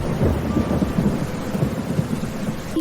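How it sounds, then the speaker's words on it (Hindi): Heavy rain pours steadily at night with low rumbling thunder throughout, a dense cartoon-style storm effect that stays loud and continuous, then cuts off abruptly at the end. "उस रात तेज बारिश भी हो रही थी"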